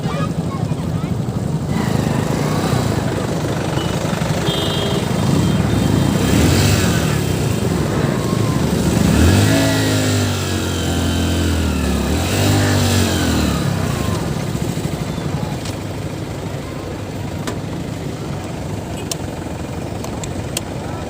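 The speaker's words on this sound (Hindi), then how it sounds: "यहाँ गाड़ी आगे तरफ जा रही है" Car passing through a highway toll gate between Gumla and Ranchi, with a steady loud engine drone and road noise throughout and a rising rev partway, plus background voices and traffic.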